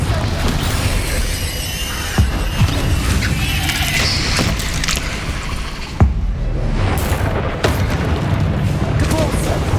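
Confringo and Bombarda spell explosions in Hogwarts Legacy blast in loud booming crashes over a constant battle din, with sharp impacts around the middle and a player's voice calling out over the fighting.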